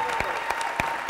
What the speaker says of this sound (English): give a round of applause to the people who've been doing the sign language here